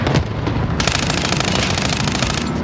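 Rapid automatic gunfire from Call of Duty Warzone fills the whole stretch. It comes as a dense, loud, continuous burst that thickens sharply partway through, with no talking.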